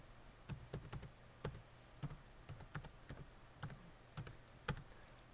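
Someone types a password on a computer keyboard, soft, irregular clicks spaced out over a few seconds, quiet against a faint hiss, with no speech.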